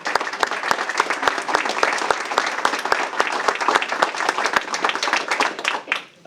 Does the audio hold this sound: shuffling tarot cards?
no